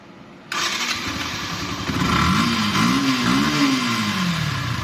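A used Yamaha FZ 2 motorcycle with about 6,211 km on it starts up close by, then settles into a steady idle before a few short revs rise and fall.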